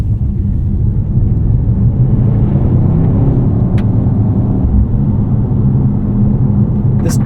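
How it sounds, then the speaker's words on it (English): Mercedes-AMG GT 63 S E Performance 4-door, a 2024 V8 hybrid, rumbles steadily from the cabin while driving, a low continuous engine drone with a couple of faint high clicks. "This does combine some EV noises with that V8"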